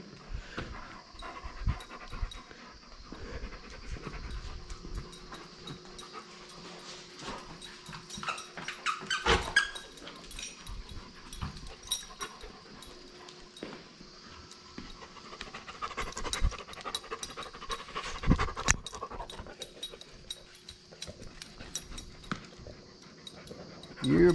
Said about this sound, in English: You're a big puppy.